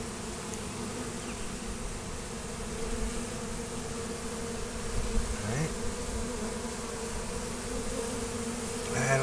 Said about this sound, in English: Some bees left in here.